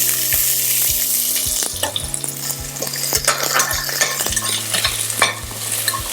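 Cloves, bay leaf, cardamom and onion sauté in a hot pan for millet fenugreek pulao, a steady close sizzle broken by repeated scraping stirs of a spoon against the metal.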